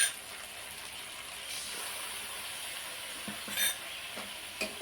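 Curd and water simmering in a pan on low heat, a steady close sizzle and bubbling with a few soft scrapes and clinks as it is stirred.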